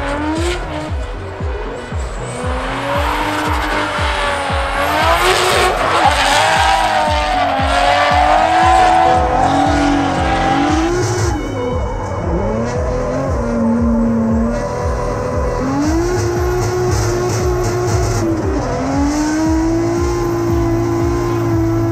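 A drift car engine revving hard and shifting through gears at Three Sisters Circuit, loud and close, with rising and falling pitch and some tire squeal.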